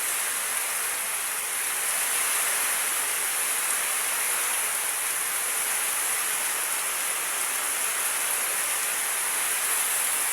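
Heavy rain pours down steadily, a dense, continuous hiss with no break and no voices.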